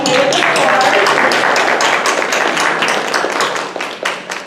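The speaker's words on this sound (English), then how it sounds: "Let's give ourselves a round of applause." A school assembly crowd gives a loud, dense round of applause, many hands clapping together continuously before it thins toward the end.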